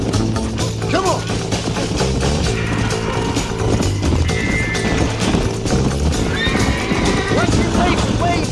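Horses galloping and neighing in the video game Red Dead Redemption, rapid hoofbeats with whinnies over a busy, loud mix as riders urge each other on and shout.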